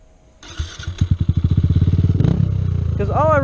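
A motorcycle on a dirt trail revs up from near silence into a fast, rising train of loud engine pulses, close and building steadily, with a brief rattling burst and a throttle sweep toward the end.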